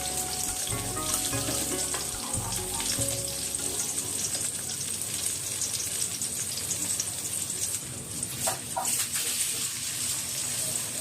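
Sliced potato chips fry in hot oil in a home kitchen, giving a steady, dense sizzle that crackles on throughout, with brief lower thumps near the start.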